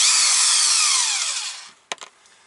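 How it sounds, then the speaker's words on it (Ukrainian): Power tool whirring while taking off the oil pump of a 1998 Husqvarna 40 chainsaw being disassembled, a loud burst that winds down, then a couple of short sharp clicks and rattles of parts. "Ще треба відкрутити маслонасос."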